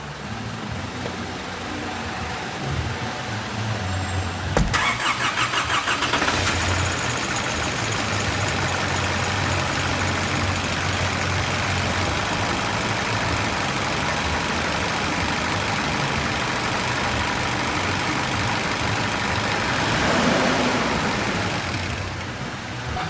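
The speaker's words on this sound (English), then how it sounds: "So I'm going to start this car now" Diesel car engine cranking briefly and catching, then settling into a steady, fairly loud idle rumble that runs on for the rest of the span, with a short revving swell near the end and no speech.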